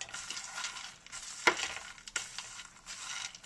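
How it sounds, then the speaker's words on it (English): Sugar-coated pecans stirred in a pan with the heat off, giving soft scraping, crunching rustles with one sharp clink partway through, faint and close. "Just stirring them up to get that coating on."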